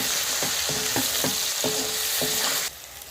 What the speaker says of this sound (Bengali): দিয়ে আমি ভালো করে মশলাগুলোকে কষিয়ে নেব।